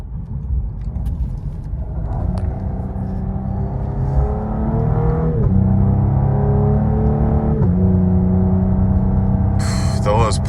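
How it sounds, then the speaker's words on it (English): A Cadillac CT5 sedan accelerates hard from inside the cabin, its engine note rising in repeated climbs that break at each gear shift with a sharp exhaust pop. Speech is faint or absent beneath the engine. "That shifting pop, it just does something to you because it sounds good."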